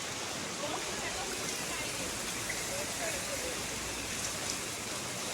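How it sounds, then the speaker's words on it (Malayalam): Light rain falls steadily outdoors while someone wades along a flooded road, a soft, even broadband hiss of drops that holds at a constant level throughout, with no voices heard. "ഇപ്പം ചെറിയ മഴ"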